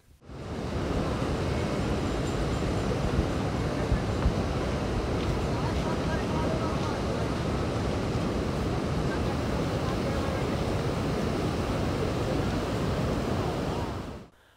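Floodwater released through the eight gates of a full dam rushes into the Sindh river in a steady, dense roar that holds at an even loudness for the whole stretch, with no talking.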